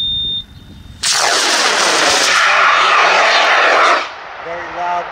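Model rocket on a G106 motor igniting with a sudden, very loud roaring blast that holds steady for about three seconds, then cuts off abruptly into quieter outdoor noise.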